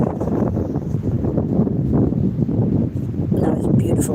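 Steady gusting wind at rock pools on the Porthcawl seafront in South Wales, a loud low rumbling buffet across the microphone throughout, with a person talking over it.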